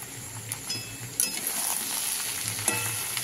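Sabji sizzling and frying steadily in a hot pan while being stirred, with a few soft clinks of the spoon against the metal, continuous and fairly close.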